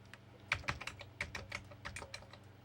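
Keys pressed one after another on an Amiga 500 computer keyboard, a close run of sharp plastic clicks in an uneven rhythm, with no talking.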